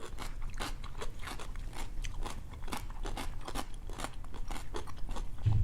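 Crunchy cucumber kimchi bitten and chewed close up, a quick run of sharp wet crunches and snaps repeating steadily, with no talk over it.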